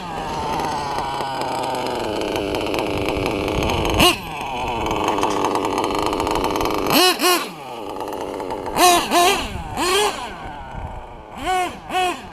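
A Novarossi Rex Legend 28 nitro engine in an 8T RC truck idling with a steady buzz, then snapping into several sharp rising and falling revs, loud and close.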